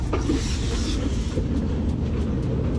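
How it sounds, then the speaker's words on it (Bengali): A train passing close by, loud rumbling with rhythmic clattering of the wheels over the rails, no talking over it. "ট্রেন যাচ্ছে"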